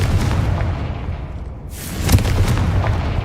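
Confringo blasting spell explosions in the Hogwarts Legacy video game: loud, booming blasts repeating across the whole clip, with a sharper burst near the end over a constant rumbling game soundscape.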